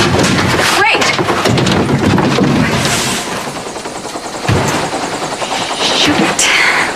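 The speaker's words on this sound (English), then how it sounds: "It's a helicopter." A helicopter in a Santa Barbara soap opera scene, its rotor chopping loudly and continuously with a rough, rattling texture, briefly dropping off before swelling back.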